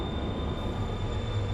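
Steady rumbling interior noise aboard a Mugunghwa train departing Yongsan Station, low wheel-on-rail roar with a faint constant high whine, continuous and close with no talking.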